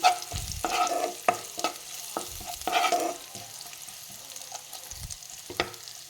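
Dried red chilli pieces fry in a pan while being stirred, with a soft sizzle under a run of irregular spoon scrapes and knocks that thin out toward the end.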